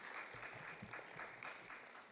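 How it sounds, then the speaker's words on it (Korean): Applause from the audience at an academic conference opening ceremony, a continuous dense patter of many hands clapping at moderate, even level throughout. "큰 박수 부탁드립니다"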